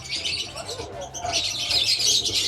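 Birds in an aviary bird sanctuary at the Costa Maya cruise port chirp and tweet in bright, close bursts over a low background murmur, busiest near the start and toward the end.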